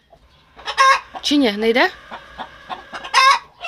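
Broody hens cluck and give a squawking call up close in a coop, with bursts of agitated clucking, and a person speaks briefly between them.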